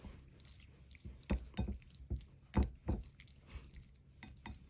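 Fresh wakame being mixed with karashi miso and a little dashi in a bowl, giving soft wet squishes and clinks of utensil against the bowl in irregular bursts, close and fairly quiet, with no talking.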